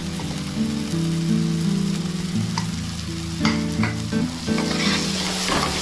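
Spices for egg and potato biryani fry loudly in a hot pan, a strong steady sizzle broken by scraping and clinking as they are stirred, with faint music playing beneath.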